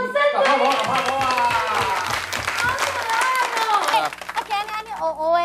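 A crowd at a Taiwanese glove puppetry show, with children present, claps loudly for a few seconds over an ongoing chanting voice and backing music, then the clapping fades as the music continues.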